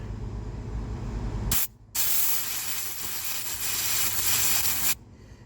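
An air compressor nozzle blasts air through the duckbill valve in the fuel tank of a Homelite ZS830B chainsaw being rebuilt: close, loud hissing spray, first a short burst, then a brief gap, then a longer sustained blast that cuts off abruptly.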